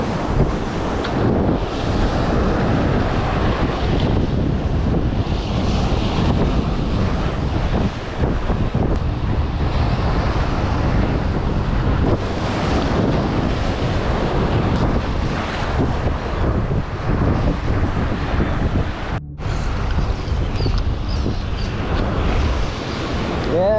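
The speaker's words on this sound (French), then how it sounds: "Gros vent de face, c'est pas facile" Strong headwind at the sea while fishing from rocks, a constant loud roar of wind buffeting the microphone over crashing surf, with a brief dropout near the end.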